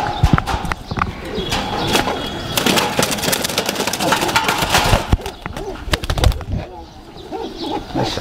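Pigeons kept as pets, including Indian breeds, coo and flutter close by, with sharp wing flaps and scuffling among soft cooing and occasional background voices.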